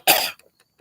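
A single loud, close cough, one sharp harsh burst lasting about a quarter second, followed by faint small throat sounds.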